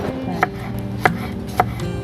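A knife chops sliced ginger on a board in a home kitchen: three clear, crisp knocks at an even, unhurried pace, close and distinct over a soft steady background.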